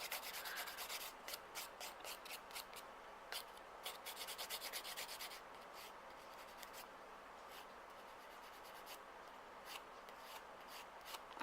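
A nail buffer rubs briskly across the surface of fingernails during a dip powder manicure, giving close, scratchy strokes in quick rhythmic bursts that fade into softer, slower rubbing.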